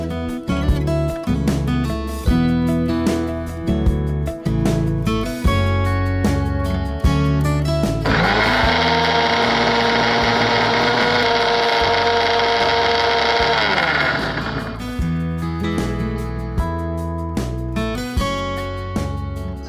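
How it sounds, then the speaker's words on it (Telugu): A mixer grinder whirs for about six seconds, blending fried tomato and red capsicum with a little water into chutney. The loud, steady motor whine starts and stops abruptly over background music. "సో మిక్సీ పట్టుకున్నాం కదా, tomato red capsicum chutney ready అయిపోయింది."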